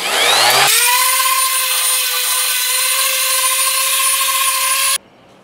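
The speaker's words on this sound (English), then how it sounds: "I have a coarse 50 grit sand pad on this and I'm just going to run this around the inside" A loud, steady whine from a power tool with a coarse 50 grit sanding pad grinding the inside of rough cast iron, with a strong harmonic tone, runs for several seconds, then cuts off abruptly, leaving quiet room noise.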